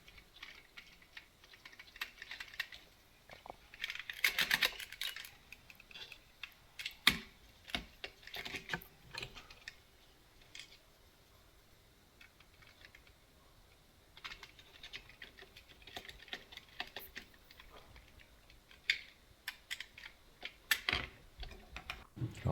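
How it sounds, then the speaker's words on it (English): A screwdriver drives small screws back into a vintage G1 Whirl plastic toy. Irregular dry clicks and clacks come in scattered bursts with quiet pauses between them. The sound is close and fairly soft, with no voices. "Always enjoy hearing the sounds of those screws and screwdriver clicking and clacking."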